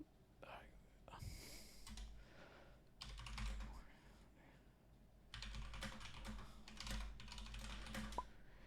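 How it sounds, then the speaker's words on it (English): Typing on a computer keyboard during a live game stream, with quiet, rapid bursts of key clicks in several clusters, close and soft, alongside low murmured talk. "Oh, I'm just typing."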